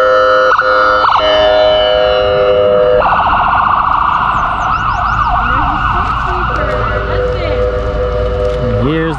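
Loud overlapping fire engine sirens blare close by during a town parade, steady tones joined by a warbling wail and brief yelps, with background chatter from an outdoor crowd.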